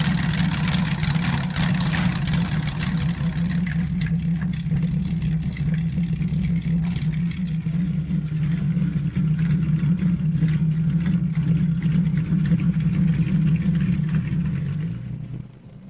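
Lamborghini Espada V12 engine mounted in a custom two-wheeled motorcycle, running with a steady low idle rumble throughout that fades abruptly at the very end.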